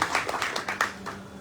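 Audience clapping at a Pappu Yadav student public-dialogue rally, a short burst of scattered hand claps with uneven rhythm that fades toward the end, fairly close and without voices over it.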